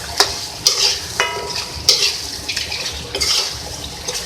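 A spoon stirring mutton karahi with ginger and black pepper in a hot pan, with scraping strokes and metal clinks over a continuous sizzle, close and fairly loud, no talking.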